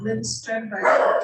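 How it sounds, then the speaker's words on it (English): A dog gives a few close, yappy barks and whimpers. A person talks over and between them, in an indoor setting that sounds like a remote interview. "Sorry, that was my dog."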